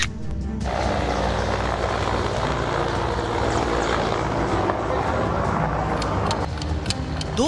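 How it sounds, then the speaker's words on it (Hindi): A military helicopter roars loudly and continuously overhead in fog, its rotor and engine noise filling the scene with a dense, steady rumble. "हेलीकॉप्टर की तेज आवाज"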